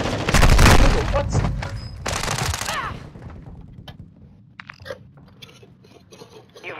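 A grenade goes off in Call of Duty Warzone on Ashika Island: a loud, booming blast in the opening second with a crunching tail. Scattered gunfire and a voice follow faintly.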